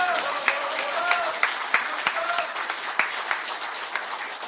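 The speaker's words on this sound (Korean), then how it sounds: "힘내라고 박수 한번 크게 쳐주시기 바랍니다." An audience at a political rally in Korea applauds for the candidates, a thick crowd of clapping with a few louder individual claps standing out, and a voice briefly speaking over it.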